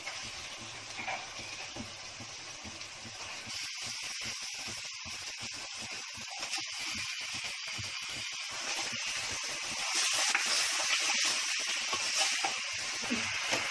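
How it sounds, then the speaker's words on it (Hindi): Mutton pieces frying over a high gas flame give a steady, loud hiss with dense crackling throughout. "गोश्त को फास्ट गैस पर थोड़ा भून लूंगी।"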